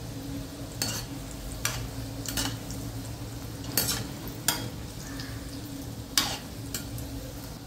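Gulab jamun fry in hot oil with a soft, steady sizzle, broken by a few brief scrapes and stirring clinks from a utensil in the pan, heard close with no voices.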